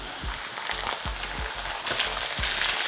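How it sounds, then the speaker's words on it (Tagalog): Shrimp go into a pan where garlic is just starting to brown, and the pan sizzles steadily up close. A few soft knocks and thumps of the shrimp landing are heard, with no one talking. "Yung garlic nagsastart ng mag-brown. So, pwede na nating ilagay yung hipon ngayon."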